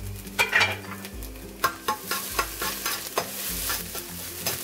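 Garlic and ginger frying in oil in a pan for Hong Kong style beef and lettuce fried rice: a soft steady sizzle broken by a series of sharp scraping stirs at an uneven rhythm, close and moderately quiet.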